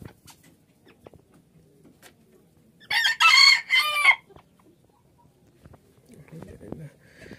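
A silver Sebright bantam rooster lets out a loud, close crow in the middle, with soft clucking and low farmyard sounds from vaccinated hobby chickens before and after.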